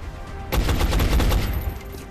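A single gunshot leads into a short, loud rattling burst of fire in the XCOM video game, close and aggressive for about a second and a half.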